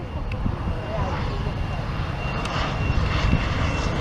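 CRJ regional jet landing at an airport, heard as a steady, moderately loud engine roar that holds throughout without breaks.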